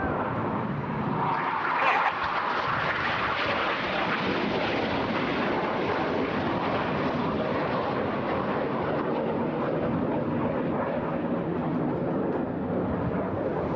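Red Arrows jet roaring through the Carousel manoeuvre at a seaside airshow, trailing blue smoke; a loud, sustained broadband engine rush fills the whole stretch with a brief sharper burst early on.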